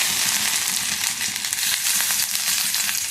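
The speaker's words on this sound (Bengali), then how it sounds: "তেলটা গরম হয়ে গেছে, 2টো শুকনো লঙ্কা আর জিরে ফোড়ন দিলাম।" Two dried red chillies and cumin seeds sizzling in hot white oil, a loud, dense, continuous crackling fry heard up close with no talking.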